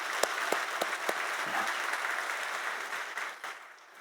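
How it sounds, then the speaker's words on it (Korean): A church congregation gives thanks with a burst of applause during a Sunday worship service, many hands clapping steadily and fairly close, fading slightly toward the end. "우리 하나님께 감사의 박수 올려드리도록 하겠습니다"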